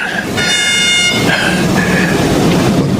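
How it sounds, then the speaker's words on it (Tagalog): In a radio drama, a train sound effect plays loud and close: a sustained horn blast over a continuous rumble of wheels on track. "parating yung tren."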